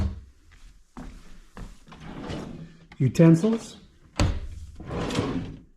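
Kitchen drawers and cabinet doors in a cabin at Rocky Fork Ranch Resort in Kimbolton, Ohio, sliding open and shutting with several close wooden thumps and rattles, heard under a person talking nearby.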